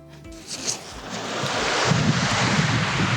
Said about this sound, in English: We're gonna turn the fan on high and let's see what happens.